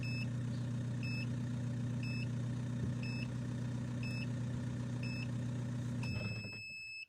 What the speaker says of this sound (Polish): samochód po, z wyciągniętym kluczykiem po zadanym czasie zgasł